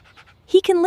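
A puppy pants faintly in quick, soft breaths, then a voice cuts in loudly over the end.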